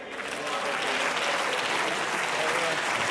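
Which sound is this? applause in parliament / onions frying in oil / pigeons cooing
applause in parliament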